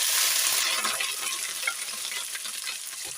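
Cloves, curry leaves, peppercorns, garlic and ginger fry in hot oil with a loud, dense sizzle that settles slightly while being stirred, with no talk.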